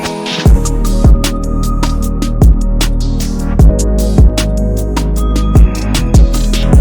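Smooth RnB beat with steady sustained chords, a deep bass line and regularly spaced punchy drum hits, built up with a Cymatics riser, playing loud and alone with no voices.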